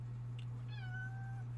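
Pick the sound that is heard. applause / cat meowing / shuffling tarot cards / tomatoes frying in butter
cat meowing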